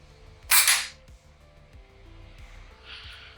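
A single sharp air rifle shot, fired with an H&N Hunter Barracuda pellet at a target: one loud, close crack followed by a faint later tick, with quiet room tone around it.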